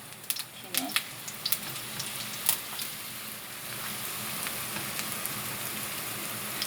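Kimchi pancake batter with onion meets oil in a pan and gives a steady, fine sizzling crackle with a few sharper pops early on, close and moderately loud.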